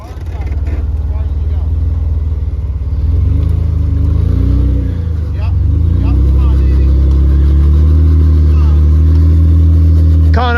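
An off-road vehicle's engine drones loudly and steadily, its pitch climbing as it revs to build momentum, with what may be voices mixed in.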